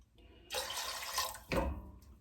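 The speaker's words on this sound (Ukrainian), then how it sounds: "І я його кидаю в каструльку і заливаю водою так, щоб тільки покрило" Water poured into a saucepan over a piece of fatty meat for pilaf, with two close splashing pours in quick succession, the second shorter and heavier.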